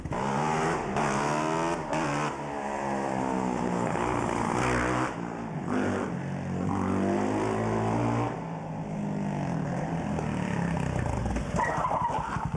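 A Hell Cycle chopper motorcycle built from aftermarket Harley-Davidson chopper parts around a KTM 525 racing engine, the prototype from Ghost Rider, revs loudly and steadily up and down through sweeping engine tones for about twelve seconds, with no talk.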